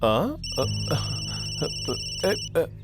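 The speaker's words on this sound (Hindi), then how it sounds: "वहीं से फोन आ रहा है" An electronic telephone ringtone announces an incoming call, a steady bright tone repeating for about two seconds while voices talk and move around it in a home.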